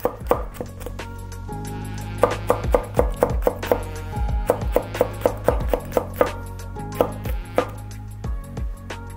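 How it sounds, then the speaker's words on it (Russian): A knife chops chili pepper into thick rings on a board, a steady run of crisp, close knocks in quick bursts with short pauses, and no voices. "Дальше мы берем чили перец, режем его тоже достаточно толстыми колечками"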